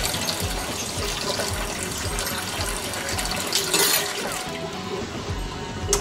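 Water runs and pours steadily from a tap as two teaspoons are measured out for homemade candy, with a brief louder gush near the end and no talk.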